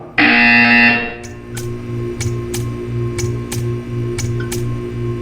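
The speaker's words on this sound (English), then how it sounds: "You will hear a buzzer." A loud, harsh buzzer in the video game Portal 2 blares for about a second, followed by a steady ticking rhythm with a low hum underneath.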